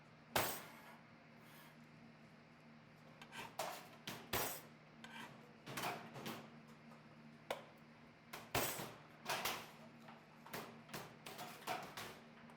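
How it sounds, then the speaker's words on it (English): A flat knife thumps and clacks against a kitchen bench while crushing garlic, sounding as a series of sharp, irregular knocks spread across the clip over a faint background hum. "Garlic, flat knife towards the end of the bench."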